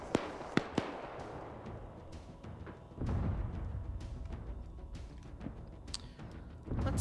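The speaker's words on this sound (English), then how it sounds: "Where are the mortars firing? Mortars are firing." Mortars fire in a video game military training operation, a few sharp far-off thumps early on, then a sustained rumbling barrage of scattered blasts with no talk.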